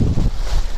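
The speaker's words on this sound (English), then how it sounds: "As you can see, it's so windy that the whole thing" Strong outdoor wind roars and buffets the microphone during a paraglider wing inflation, a loud continuous rumble with gusty surges and no voices.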